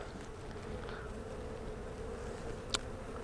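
Honey bees buzz steadily around an open hive during a fall beehive inspection, a soft continuous drone at moderate distance with one brief sharp sound near the end.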